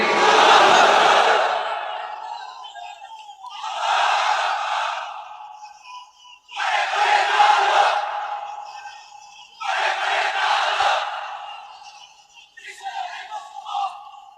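A large crowd at a Bangla-language Islamic sermon roars the takbir in response to a leader's call, loud, massed shouts rising and fading in four long waves with brief gaps, then a shorter, weaker fifth.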